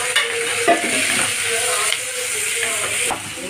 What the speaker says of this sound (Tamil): சின்ன தக்காளியில் ரெண்டு தக்காளி போட்டுக்கலாம் போட்டு நல்லா வதக்கிக்கலாம்